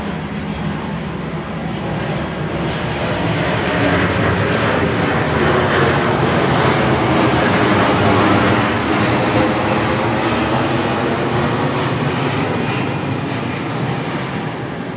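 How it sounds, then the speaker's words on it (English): A fixed-wing aircraft passes straight overhead, its loud, steady engine roar filling the scene for the whole stretch, rising slightly at the midpoint and easing off slowly, with no voices. "military mind-controlled aircraft straight over my head"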